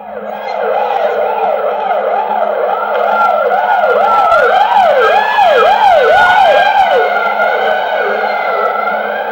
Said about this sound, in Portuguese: Ambulância e polícia.